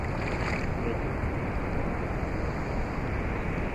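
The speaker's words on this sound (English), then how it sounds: "I'm inside the river, by the way." Steady broadband rush of river water surrounding a person standing in the river, continuous and close, with wind buffeting the microphone and no distinct splashes.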